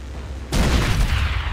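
A frag grenade blast with gunfire in the Rainbow Six: Vegas video game, a sudden loud explosion after a quiet moment and then a dense rumbling crackle of shots that stays loud to the end, with no talk.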